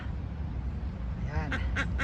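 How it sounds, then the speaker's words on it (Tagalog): Geese and turkeys kept under a bridge in a park, with steady low background rumble and then several loud honking quacks clustered near the end. "pakita ko sa inyo yung mga gansa dito sa silong ng ano"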